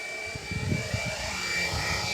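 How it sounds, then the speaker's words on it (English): A FlyWing Huey UH-1 RC GPS helicopter flies outdoors, its rotor and motor giving a steady, fairly loud buzzing drone with a faint throbbing beat, heard alone. "Absolutely fantastic looking helicopter."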